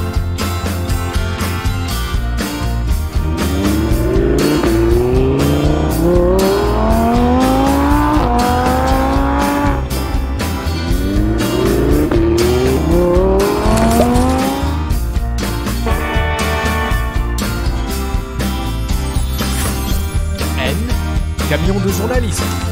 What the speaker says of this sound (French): Monster Truck.